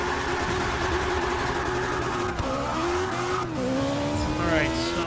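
A powerful car in Forza Motorsport 6 drifts through a turn, its engine droning continuously beneath rising, wavering tire squeals that grow toward the end of the slide.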